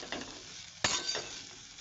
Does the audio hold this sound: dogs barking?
no